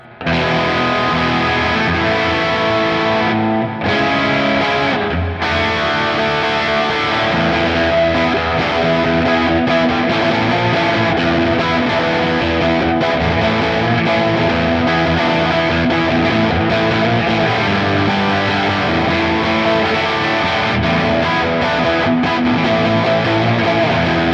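A distorted electric guitar, a Fender Telecaster on its bridge pickup, plays through an amplifier miked at the cab, loud and dry, with sustained chords and riffs continuing throughout without any echo or room ambience.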